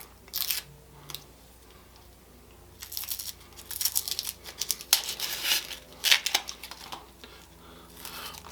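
Knife slicing through half an onion on a cutting board, a series of crisp crunchy cuts in uneven bursts, close and clear with no talk.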